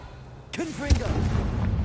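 A Confringo blasting spell from Hogwarts Legacy goes off as a sharp burst followed by a crackling, rumbling tail, with a second heavy thump shortly after, over a steady low game bed.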